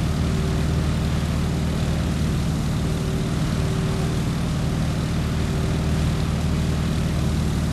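Propeller aircraft engine droning steadily on landing approach in Microsoft Flight Simulator, a loud, constant low hum with no talking.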